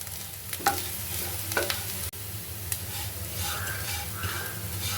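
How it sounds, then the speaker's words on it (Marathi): Bitter gourd (karela) pieces stir-fried in a pan give a steady sizzle under repeated spatula scrapes and clinks, close and moderately loud with no voices. "ह्या भाजीला थोडं जास्त परतावं लागतं."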